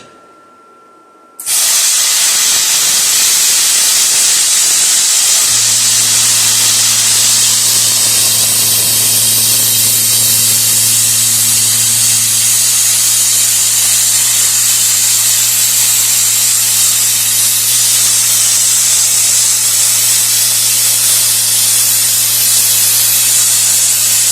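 A Vevor 2024 oil-free air compressor running while 3/8-inch steel plate is cut: after a brief silence, a loud, steady broadband hiss starts abruptly, and a constant motor hum joins a few seconds later, with no talking.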